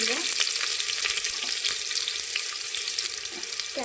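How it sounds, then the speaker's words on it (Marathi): Green chillies, onion and curry leaves fry in hot oil for khichadi, making a loud, continuous close-up sizzle and crackle that holds steady throughout with no talk. "तर पाहू शकता मिरची चांगली फ्राय झालेली आहे। तर कांदा आणि कढीपत्ता टाकून घेऊया"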